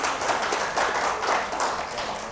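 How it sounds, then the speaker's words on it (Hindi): Steady applause from a crowd at a company dealer meet, a dense wash of many hands clapping continuously at moderate loudness, with no talking over it. "ताली बजनी चाहिए एकदम।"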